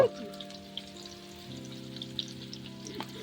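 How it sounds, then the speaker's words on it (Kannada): Onions frying in oil for biryani give a steady, close, moderately quiet sizzle with faint crackles, and it runs on without pause. "ಈರುಳ್ಳಿ ಕೆಂಪಕ್ಕಾಗೋ ತನಕ ಬೇಯಿಸ್ಕೋಬೇಕು."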